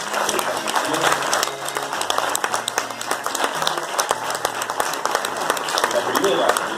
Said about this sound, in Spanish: Gladys Margarita Fernández del Rigali, con el aplauso de ustedes y la entrega.